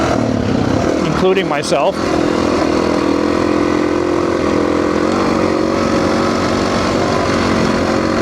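KTM 350 motorcycle engine running steadily and loud throughout, a continuous drone with a brief rev shift early on, while someone talks over it.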